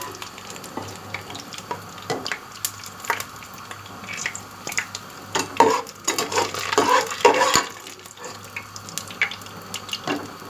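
Onions sizzle and crackle in hot oil, frying until golden for a beef pasanda, while a spoon stirs them, the frying swelling louder midway with scraping and clinking.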